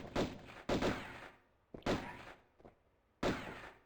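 Gunfire from Lara Croft's pistols in Tomb Raider 1's City of Khamoon level: four loud, sharp shots in irregular bursts, each with a short decaying tail, and a fainter pop between them.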